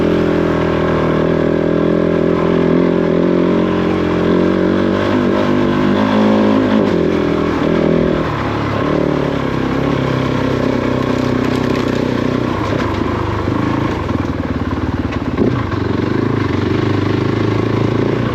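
A Kove 450 Rally adventure motorcycle ridden off-road in Devon, its engine droning loud and steady with shifting revs and gear changes, heard close and continuously without any talking.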